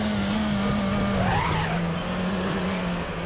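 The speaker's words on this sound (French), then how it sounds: "On bloque un peu les roues au moment de passer dans la première chicane" Race car tires squeal as the wheels lock braking into a chicane in RaceRoom, a rising screech over a steady engine drone that then settles back into constant engine hum.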